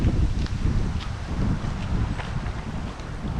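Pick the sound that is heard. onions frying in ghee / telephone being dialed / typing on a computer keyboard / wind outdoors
wind outdoors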